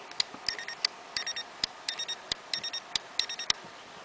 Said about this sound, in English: You can hear that, it's beeping.